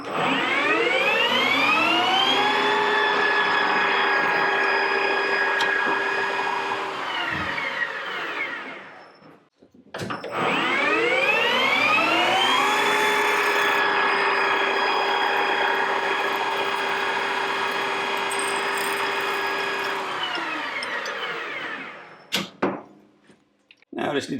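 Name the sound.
lathe turning a jig for stainless bolts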